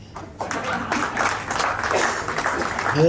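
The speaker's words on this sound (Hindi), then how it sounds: "इसके साथ साथ ताली बजाएंगे" An audience at a Hindi book launch claps along, scattered claps building into fuller rhythmic applause, with voices chanting mixed in throughout.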